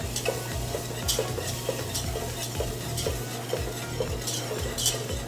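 Butter melting in a saucepan while a utensil stirs it, rhythmic scraping strokes repeating about once a second over a soft sizzle, close and steady with no talk.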